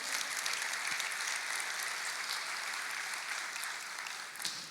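A church congregation applauds in praise, a steady wash of many hands clapping at moderate distance that holds evenly throughout and tapers slightly at the end.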